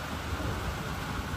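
Rain falls steadily during an outdoor thunderstorm, a dense, even hiss with a low rumbling undertone throughout, no voices.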